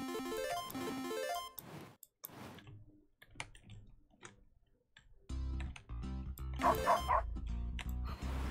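Cartoonish dog barks from a leaf-blower video game, several short yaps mixed with ticking clicks and bright game music, fairly loud and close with no talk.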